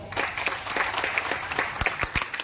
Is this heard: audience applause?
yes